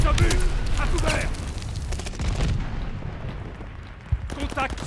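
Artillery shells and gunfire boom and crack in Call of Duty: Vanguard, dense loud blasts in the first half easing then a sharp hit near the end, with voices talking over the battle.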